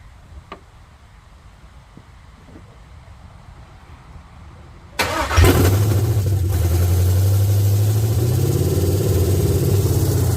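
A 5.3 LS-swapped Chevrolet C10 V8 bursts to life after a quiet stretch with a few faint clicks, then holds a loud, steady, rumbling idle with slight revving, close by, with no speech.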